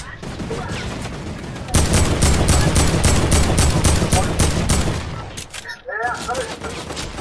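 Rapid machine-gun fire from a mounted turret in a video game, a loud, fast, unbroken stream of shots lasting several seconds before it breaks off into scattered noise and game sounds.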